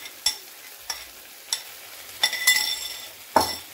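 Spinach puree stirred in a hot pan for palak paneer, soft sizzling under a few sharp scraping clicks of a spoon, ending with a louder scrape.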